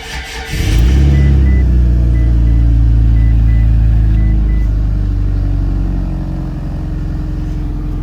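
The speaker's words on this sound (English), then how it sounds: "we'll go ahead and start the car." A Mitsubishi Eclipse engine cranks and catches, then settles into a loud, steady low idle that continues to the end.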